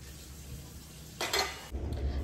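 Dishes are washed by hand, with a quiet background hum broken by a short burst of clattering and a few soft knocks of utensils near the end.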